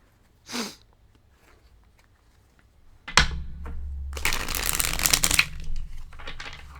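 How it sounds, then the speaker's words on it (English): Dropped tarot cards are gathered back up: a brief soft rustle, then a thump and a few seconds of papery shuffling and handling close by, with no talk. "oh no, I dropped some of my cards"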